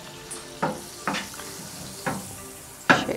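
Butter sizzling in a heated pan gives a soft frying hiss broken by four or five short scraping stirs at irregular intervals, close and fairly quiet.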